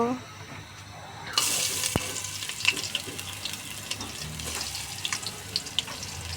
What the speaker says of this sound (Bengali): প্রথমে তেল দিয়ে দিব, এরপর পেঁয়াজ কুচি দিয়ে দিব